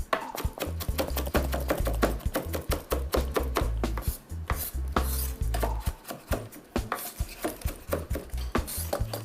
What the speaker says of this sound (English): You chop all of this. Just chop it, mash it up.